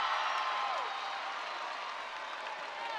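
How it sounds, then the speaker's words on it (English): Basketball fans at a Stephen F. Austin versus Lamar game cheer and applaud on their feet, a loud, steady wash of clapping and shouting that holds throughout with no clear talk on top. "Crowd on its feet."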